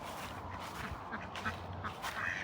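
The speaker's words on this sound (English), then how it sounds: "Here's the old crazy ducks." Ducks kept loose in a farmyard quack faintly at a distance against steady outdoor background noise, giving several scattered calls with no one speaking.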